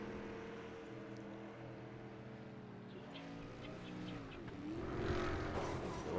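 Race cars lapping a track in a racing game, engines droning steadily with shifting pitch and a rising surge toward the end, heard at moderate distance without talk.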